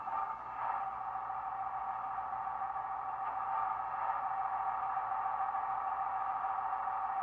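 Faint, steady electronic diesel hum of a Bachmann Class 158 DMU model train with DCC sound starting up, a constant mid-pitched drone with slight fluctuations and no talk.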